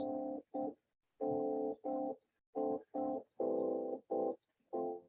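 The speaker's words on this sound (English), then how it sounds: "you can hear how it sounds like an electric piano" A soft, mellow electric piano preset on a synthesizer plays a series of short chords in a halting rhythm, with brief gaps of silence between the stabs.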